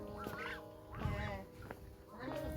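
Several ducks quack in short nasal bursts in the Sundarbans, a few calls spaced over a couple of seconds, fairly close and moderately loud.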